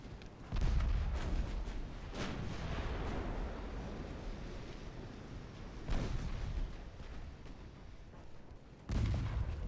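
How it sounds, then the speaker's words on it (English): Heavy naval gunfire from pre-dreadnought battleships in the Ultimate Admiral Dreadnoughts naval battle game, Germany against Britain: a continuous rumbling barrage with sharp booming main-gun blasts near the start, around six seconds and near the end. "Main gun hits from the battleships."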